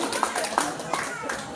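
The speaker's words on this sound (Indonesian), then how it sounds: "Beri tepuk tangan untuk Uti dan Bu Eri" A few people clap at an Indonesian Independence Day evening gathering, with sharp single claps standing out at a slow, roughly regular rhythm over a background murmur of voices.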